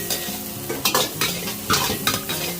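Curry paste with galangal and lemongrass stir-fried in a pan, with steady close sizzling and repeated scraping strokes of a spatula, loud and alone.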